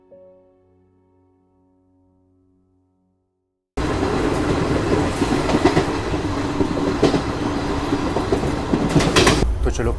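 A passenger train on a Rajasthan rail route rumbles loudly with steady clickety-clack after a quiet opening, the rolling wheel noise continuing close by to the end.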